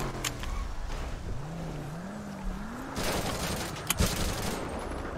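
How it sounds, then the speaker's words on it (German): Gunfire in GTA 5 during an online purge roleplay, a few sharp cracks and bursts mid-distance over a steady engine drone with a rising engine whine, vehicle noise throughout. "Wir haben schon auf uns geschossen"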